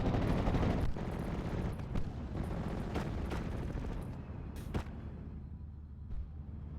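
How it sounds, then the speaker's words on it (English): Artillery barrage in a World War II strategy video game, with dense rumbling blasts and scattered sharp booms that thin out toward the end, fairly quiet. "You got the artillery barrage now coming in, doing a significant amount of damage to this Fallshimjaeger squad."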